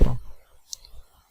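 A brief low thump, then a single crisp computer mouse click in near silence.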